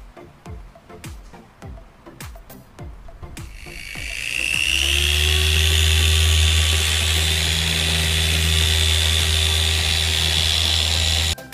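A car polishing machine whirs up after a few seconds of scattered clicks and handling noises, then runs loud and steady with a constant motor hum and high grinding whine through to the end.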